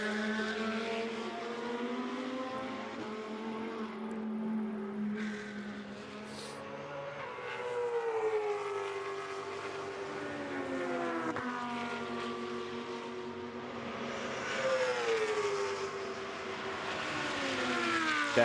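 The KTM GT2 race car passes at Spa-Francorchamps, its engine note rising and falling through gear changes as it goes by at a distance.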